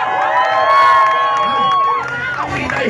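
A crowd at an outdoor gathering at Camp Aguinaldo Gate 4 cheers and shouts loudly and steadily, with voices rising and whooping throughout.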